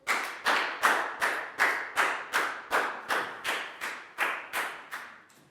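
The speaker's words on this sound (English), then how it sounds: "a big round of applause for Pat" A primary school maths class claps in unison for a pupil, about fourteen sharp, evenly spaced group claps in a steady rhythm, close and clear with no talking.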